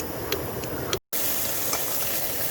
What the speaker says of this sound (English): All cooking up in the DSI pan.